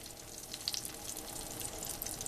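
Eggs for a veggie omelet frying in a pan, a steady soft sizzle with faint crackles, close and fairly quiet, with no voices.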